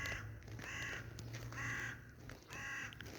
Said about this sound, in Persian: صدای این کلاغا